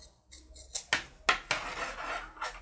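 Scissors snip through knitting yarn during hand knitting of a beginner's needle-knit beanie, giving several sharp, close cuts spaced about half a second apart, with soft rustling between them and no voices.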